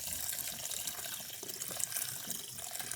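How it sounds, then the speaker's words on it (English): Kitchen sink tap running as food is rinsed under it, a steady close hiss of flowing, splashing water with no voices. "So I'm just gonna go over the sink and just rinse that off."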